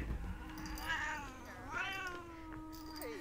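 A pet cat meows loudly and insistently, with two long drawn-out wailing calls followed by a shorter rising one, close by in a quiet indoor room.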